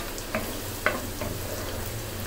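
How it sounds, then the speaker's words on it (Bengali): Onion frying in a pan for spicy broiler chicken, a steady low sizzle with a couple of sharp scraping stirs, fairly quiet and heard alone. "এখন পেঁয়াজটা লালচে করে ভেজে নিচ্ছি"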